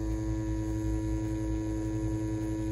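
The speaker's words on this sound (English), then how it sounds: "we're gonna continue to pull some lines with this standard 9-round shader using the XNET Elite wireless tattoo machine" A close, steady electric hum comes from an XNET Elite wireless tattoo machine fitted with a 9-round shader pulling lines, running continuously at low level with a faint rhythmic buzz and no talking.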